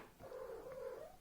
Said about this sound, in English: sorry for the noise. This is my cat.